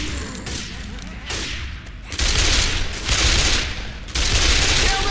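Rapid bursts of gunfire in the Left 4 Dead 2 video game, loud and sustained in several waves, with a player's voice faintly underneath.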